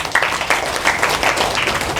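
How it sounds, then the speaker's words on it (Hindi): Clapping from a gathering at a Guru Purnima celebration at a Gayatri Shaktipeeth, with distinct individual claps woven into a moderate, somewhat roomy patter that stays steady for a couple of seconds without talk. "एक जोरदार तालियां बजाइए।"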